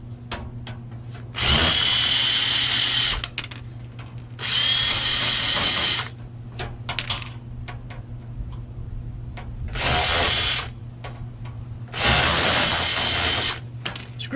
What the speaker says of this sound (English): Screw comes out better when you actually have the screwdriver in the holes.